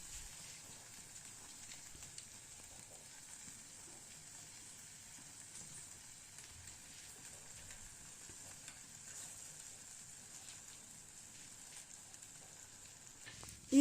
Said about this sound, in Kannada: ಇವು ಫ್ರೈ ಆಗಲಿ, ಹಸಿ ಸ್ಮೆಲ್ ಹೋಗಲಿ, ಚೆಂದ ಫ್ರೈ ಆಗಲಿ